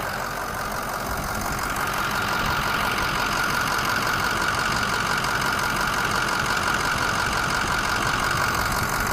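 The engine of a fully warmed 2005 King Ranch truck idles steadily during a blow-by check, a continuous close mechanical chatter and hum with no pauses or voices.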